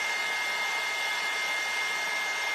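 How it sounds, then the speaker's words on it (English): A hair dryer blows steadily on wet paint, a constant close whooshing hiss of airflow with an even motor whine, running alone without voices. "When you do use a dryer, it might change that consistency a little bit."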